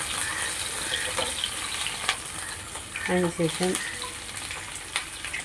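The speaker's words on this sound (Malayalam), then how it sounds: "ഈ പച്ചമുളക് ചെറുതായിട്ട് അരിഞ്ഞ് അതിലേക്ക് ഇട്ട് കൊടുക്കും. അത് നന്നായിട്ടൊന്ന് വഴറ്റുക." Chopped green chillies and curry leaves sautéing in oil in a pan for an Onam lemon pickle, a steady close sizzle with a brief stirring scrape, and a voice speaking over it.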